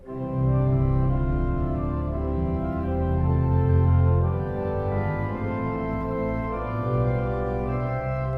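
Pipe organ chords on the octave stop ring out steadily with a bright, full tone, held notes shifting slowly through a progression, no talking, on a large 121-rank organ in Washington DC.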